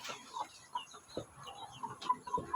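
Native chickens clucking in a breeding pen, soft scattered clucks and brief calls at moderate distance, fairly quiet with light background noise.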